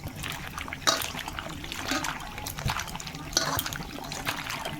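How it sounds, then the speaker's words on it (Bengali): Green bananas and potatoes are dropped into a pot of boiling water, giving splashy, bubbling liquid sounds with a couple of louder plops, heard close and moderately quiet. "এখন আমি এই ফুটান্ত জলেই এই কলাগুলো দিয়ে দেবো কলার সাথে আমি দুটো আলু দিয়েছি"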